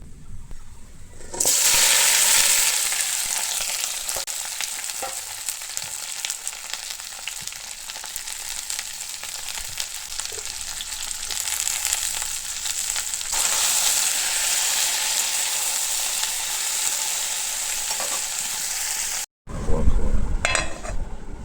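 Okra fries in oil in a pan at a home kitchen stove with a loud, continuous sizzle that starts abruptly, rises and falls slightly with a few stirring clinks, and cuts briefly near the end before resuming.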